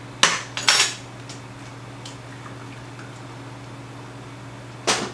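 Eggs go into nectarine muffin batter in a mixing bowl, marked by a few sharp clinks and taps against the bowl, two close together at the start and one more near the end, over a quiet steady hum.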